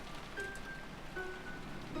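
Steady rain falls in Umineko, a soft continuous patter of drops on a surface, moderately quiet and unbroken, with no voices over it.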